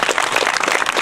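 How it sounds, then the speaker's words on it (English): Applause from a crowd at a school sports presentation evening, dense steady clapping filling the whole short moment at moderate loudness with no voices over it. "just finally a round of applause for that as"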